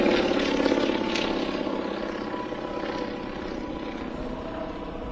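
A propeller aircraft flies a display routine over an Oklahoma City air show, its engine drone loud and steady at first, then easing slightly as it passes and draws away, with no talk over it.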